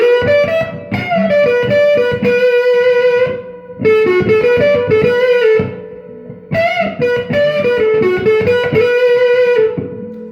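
Electric guitar, a vintage sunburst Elite, played through a Princeton Reverb amp with TS808 overdrive and BC109 fuzz, ringing out loud, distorted chords and sustained notes in phrases with brief pauses, alone.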